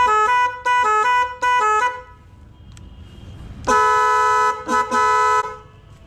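Newly fitted horn on a Yamaha RX100 motorcycle sounds loud and close in three short blasts, then, after a brief lull, one long blast and two shorter ones, each a bright multi-tone honk with no talking.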